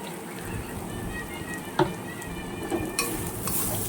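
A spoon stirs turmeric and chili powder in oil in a frying pan for a pangas fish curry, giving a soft, steady sizzle with a few sharp scrapes and clicks of utensil against pan.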